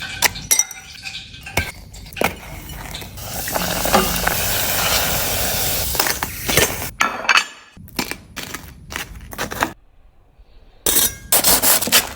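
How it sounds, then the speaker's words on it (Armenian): Bread layered with chocolate and coated in egg and panko deep fries in hot oil, giving a steady bubbling sizzle mid-stretch, with sharp clinks of utensils against dishes before and after and brief quiet gaps. "Այնուհետև խորը տապակեք"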